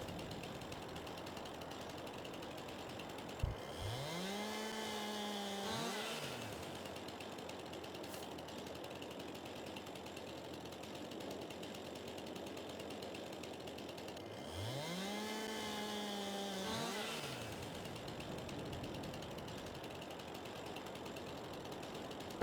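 A chainsaw in the farming game Farming Simulator 22 revs up in two separate bursts of a few seconds each, rising and falling in pitch over a constant low mechanical drone, fairly quiet overall.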